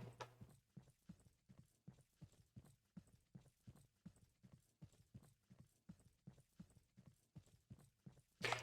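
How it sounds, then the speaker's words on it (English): Regular game footsteps on a hard surface in an Unreal-engine orc-killer shooter, a steady walking rhythm of evenly spaced thuds with a clip-clop quality, moderately loud and close with no talk. "I like the footstep sounds."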